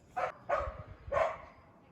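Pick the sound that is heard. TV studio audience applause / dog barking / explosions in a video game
dog barking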